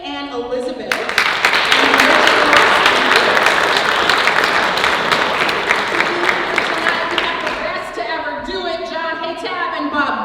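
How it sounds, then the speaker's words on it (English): An audience at a poetry recitation state finals championship breaks into sustained, loud applause for the judges, the clapping swelling quickly and holding steady before slowly tapering; a voice over a loudspeaker continues underneath. "I need you to give a big round of applause for Bonnie, William, Melanie, Stephanie, Shanta, Shane, and Elizabeth."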